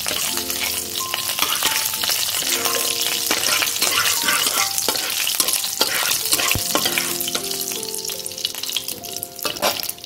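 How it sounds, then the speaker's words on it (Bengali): Whole cumin seeds and dried chillies sizzle and crackle in hot oil while being stirred, a steady close frying hiss with scraping stirring strokes throughout. "আমি গোটা জিরে আর শুকনো লঙ্কাটা ফোড়নে দিয়ে দিলাম।"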